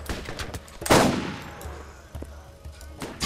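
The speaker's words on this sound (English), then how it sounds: "Enough with the shooting." Gunfire in the Borderlands video game: a single loud shot followed by a fading tail, with a few fainter bursts scattered around it.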